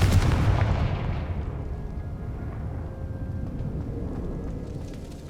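A Confringo fire spell explodes in the Hogwarts Legacy game, with a heavy booming blast at the start that rumbles and fades slowly over several seconds.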